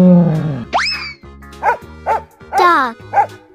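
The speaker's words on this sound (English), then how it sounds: "Dog." Cartoon-style dog barks from an animated animal-transformation sequence: a rising yelp followed by several short, bright barks in an uneven rhythm, close and fairly loud, with bouncy sound effects between them.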